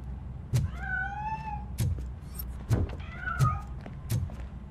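A cat in the PC game RoboCop: Rogue City meows twice in drawn-out, rising cries amid a series of sharp thumps and clicks spaced through the clip, fairly close and clear.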